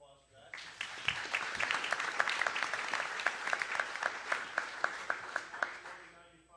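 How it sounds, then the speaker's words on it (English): Scattered applause breaks out in a city council chamber, beginning as a small cluster of claps and settling into distinct, evenly spaced individual claps that stay moderately close before fading, with faint talk underneath. "can we give him a round of applause for that?"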